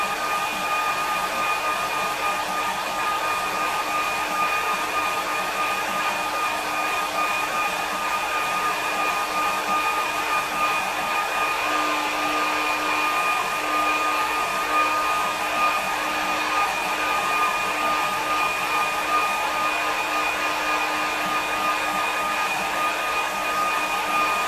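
A hair dryer blows steadily on a watercolour painting, a loud continuous whooshing roar with a constant motor whine, unbroken and alone for the whole stretch.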